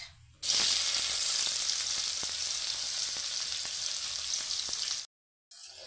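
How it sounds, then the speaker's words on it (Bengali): A large chopped onion hits hot oil already fried with whole spices, bursting into a loud, steady sizzle with a few stirring clicks that runs for several seconds, then cuts off abruptly. "এবার এর মধ্যে দেবো একটা গোটা বড় কুচনো পেঁয়াজ"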